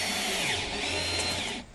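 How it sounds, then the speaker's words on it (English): A power drill whines loudly and steadily as it bores through a cargo trailer's floor, then spins down at the end. "I needed to drill out for this leg to go"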